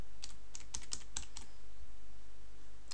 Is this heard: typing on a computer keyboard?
yes